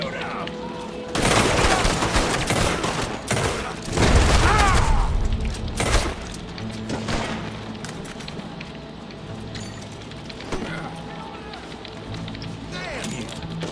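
Heavy gunfire in a Red Dead Redemption 2 shootout with lawmen closing in from all sides: loud overlapping bursts and booms, densest in the first six seconds, then scattered shots over a continuing background din and shouting voices.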